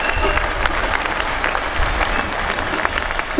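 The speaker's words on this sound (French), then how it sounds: "je voudrais qu'on applaudisse nos parents pour leur dire merci." An audience at a youth event applauds to thank parents, with a dense, steady burst of clapping from a crowd that carries through the whole short stretch at even loudness.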